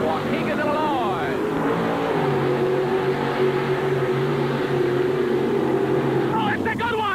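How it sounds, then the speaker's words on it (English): A mud racing vehicle tears through a mud pit at a Rockford, Illinois mud race, its engine revving loud and strained for several seconds and then easing off at the end of the run. "A spectacular race through the mud"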